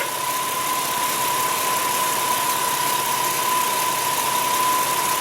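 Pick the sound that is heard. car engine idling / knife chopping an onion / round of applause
car engine idling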